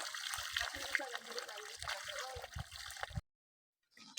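Mountain stream water trickling and splashing in the highlands of Matnog, Sorsogon, a steady close watery wash with a voice speaking over it, then cutting to near silence at the end.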